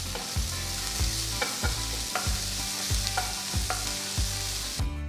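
Chopped onion, ginger and green chili sizzle and fry in a pan, with a spatula scraping and stirring in a steady rhythm, close up and alone.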